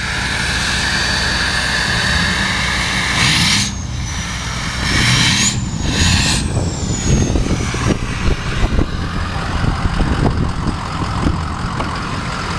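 A 2004 Ford F-250 crew cab 4x4 diesel with aftermarket exhaust runs close by, a steady low rumble with a whining pitch sweep and uneven clattering bursts as it revs.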